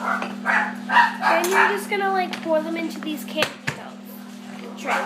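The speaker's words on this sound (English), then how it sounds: "if you hear my dog in the background," A dog barks and yips intermittently in the background of a kitchen while someone talks over it, several short barks partly masked by her voice and a steady electrical hum.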